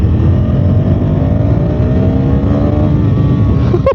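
A 2026 KTM Duke 390R motorcycle engine accelerates hard and loud, its pitch climbing steadily through the gear before easing off near the end, heard from close by.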